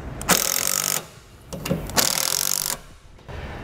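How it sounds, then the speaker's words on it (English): A power driver runs self-tapping screws into a tow vehicle's base plate. Three short whirring bursts come close and loud with brief pauses between them. "install it onto our provided studs on our base plate here with some self-tapping screws. Now we can tighten them down fully"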